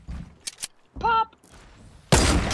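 Gunfire in a video game, a short burst of shots followed by a louder blast near the end, with a voice talking between the bursts.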